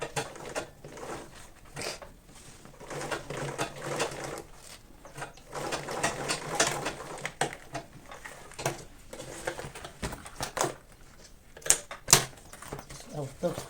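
A sewing machine stitches fabric for a homemade school bag, a rattling mechanical run that speeds and slows in uneven bursts, close up, with occasional handling clicks.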